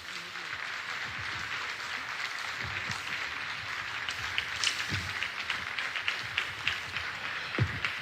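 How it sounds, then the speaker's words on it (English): Guests of honor are welcomed with audience applause at the inauguration of Aga Khan University in Uganda. The clapping is steady and moderately loud, with some sharper individual claps and low murmuring underneath. "Let us welcome them with a round of applause."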